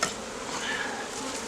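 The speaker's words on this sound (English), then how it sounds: "Lots of young nurse bees." A dense, close buzzing of many honey bees in a hive hums continuously at a steady level, with no voices.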